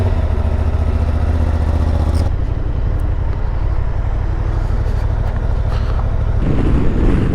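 A Honda XL750 Transalp motorcycle, freshly repaired after a crash, is ridden along the road. Its engine hums steadily and continuously, mixed with constant road and wind rush, and the pitch shifts slightly toward the end.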